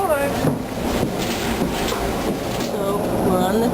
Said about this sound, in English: So we're on the train, on the way to Boston.